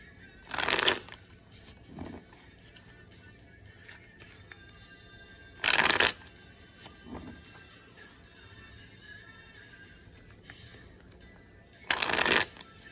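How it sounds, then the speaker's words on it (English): A tarot card deck being shuffled at close range in three crisp bursts of riffling, spaced several seconds apart, with quiet room tone and faint handling noises between them. "But I'm going to shuffle this deck, the first deck, just a few more times here."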